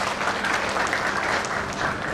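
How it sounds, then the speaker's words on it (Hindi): Loud, dense applause from an audience at a state-level NGO conference in Mumbai, a steady roar of clapping with no break. "इनके लिए जोरदार ताली हो।"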